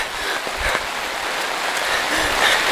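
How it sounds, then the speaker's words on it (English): Heavy rain falling steadily outdoors during the rainy season, a continuous hissing wash with faint scattered drip taps. "So today it's raining really a lot."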